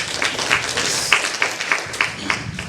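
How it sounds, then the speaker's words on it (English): Audience applause at a BSides Nairobi security conference, a moderate crowd clapping steadily for a few seconds with a handful of sharper individual claps standing out. "Round of applause for the hosts."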